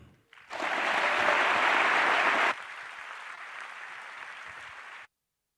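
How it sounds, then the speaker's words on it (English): Warm applause from an audience at the opening ceremony of the IAU General Assembly 2024 in South Africa, a loud sustained clapping that swells quickly, holds strong for about two seconds, then drops to a steadier, quieter applause before stopping. "can I ask for a warm round of applause, please, for the president of the IAU, Deborah Elmerine."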